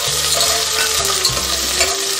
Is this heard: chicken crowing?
no